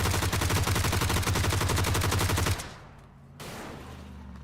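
Rapid automatic gunfire rattles loud and close in a shooter video game, a dense unbroken burst of shots lasting a couple of seconds, then a sudden stop into quieter game ambience.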